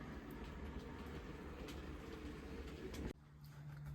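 A model railway locomotive runs along its track with a steady close-up rolling rumble and faint clickety rattle, then the sound drops sharply to a low hum near the end.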